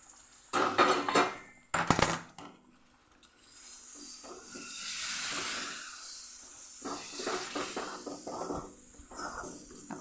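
Water is poured into a pan of moong dal halwa, bringing a rising steamy hiss after several loud metallic scrapes and clinks of a spoon against the pan. A softer bubbling sizzle follows with occasional stirring knocks.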